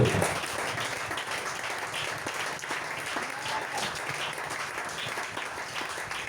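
A church congregation applauds and cheers in sustained, dense clapping that carries through the whole stretch, filling a large room with a steady roar of hands.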